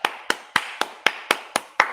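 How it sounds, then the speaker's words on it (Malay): Eight sharp, evenly spaced claps at a steady beat, close and distinct, from an audience at a seminar gathering. "Jadi tepukan untuk anda."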